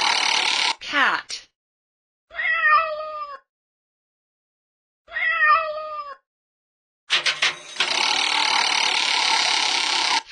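A cat meows in a children's educational game, with two distinct, clear meows separated by silence and bracketed by other short sounds.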